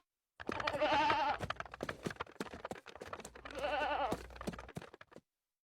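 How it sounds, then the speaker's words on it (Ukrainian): Goats bleat in a Ukrainian-dubbed cartoon: two loud, wavering bleating bursts, each about a second or more, separated by a short gap of scattered noise, with no talking. "що тут роблять кози?"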